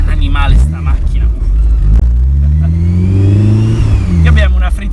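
Honda S2000 with a VTEC engine revving hard toward 9000 rpm, a loud, close rising mechanical howl that climbs in pitch over a few seconds, with someone talking over it.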